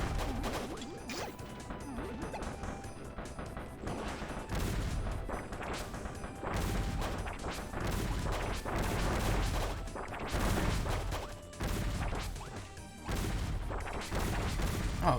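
Video game bomb explosions in Kirby's Return to Dream Land Deluxe: loud, repeated booming blasts and crashes, dense and chaotic, mixed with game music and effects and no voice over them.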